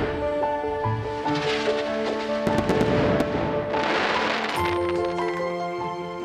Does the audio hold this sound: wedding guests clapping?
no